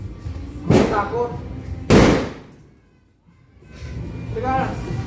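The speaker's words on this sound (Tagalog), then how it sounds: "takot na takot siyang makinig sa mga paputok sa labas" Two sharp, loud firecracker bangs outdoors at New Year, a second apart, each with a short rumbling tail, followed by another burst fading in after a brief lull.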